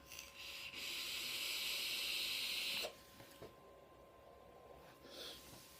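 An e-cigarette with a 0.5 ohm sub-ohm coil, full airflow and 32.5 watts is drawn on, giving a steady, close airy hiss for about three seconds before it drops to faint rustles and a softer puff.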